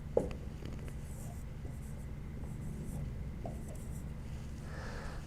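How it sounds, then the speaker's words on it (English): Chalk or marker writing on a board during a lecture, faint scratchy strokes and taps in a quiet room with a low background hum. "let me write it up again"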